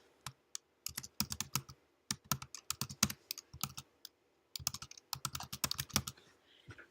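Computer keyboard keys are typed close up in quick bursts of clicks, with short pauses between runs of keystrokes and no voices.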